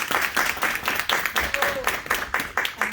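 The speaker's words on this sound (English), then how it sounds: "I'd like to give you a big round of applause." An audience at a university candidature presentation gives a round of applause, steady clapping from a small group that is fairly close and continuous throughout.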